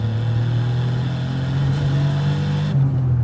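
A mid-80s Suzuki/GM small car engine revs steadily up toward 6,500 RPM, its droning tone climbing gradually and evenly, heard up close with no talking.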